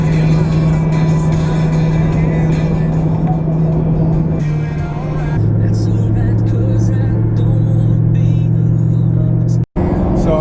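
Low, steady exhaust drone from a 1997 Ford SVT Cobra with catalytic converters welded into its H-pipe, heard from inside while cruising on a highway through Alabama, a constant rumble that shifts slightly in pitch midway.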